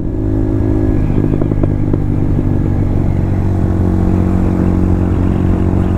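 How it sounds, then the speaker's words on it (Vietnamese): A Honda CBR 150 motorcycle engine runs steadily and loud while riding, with a low droning hum and some clattering throughout, with no speech. "Cái này nó thuộc dạng xe mô tô rồi."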